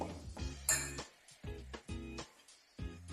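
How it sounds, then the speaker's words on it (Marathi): A spoon adds desiccated coconut to a kulfi mixture, giving several sharp, close metallic clinks and taps against the container in an irregular rhythm, with quiet gaps between them. "आता याच्यामध्ये मी हे डेसिकेटेड कोकोनट आहे हे घालते दोन चमचे घेतले"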